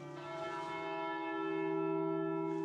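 A heavy church bell weighing a tonne and a half, rung by hand, sounds one sustained, loud, ringing tone with layered harmonic overtones that swells and hangs in the air.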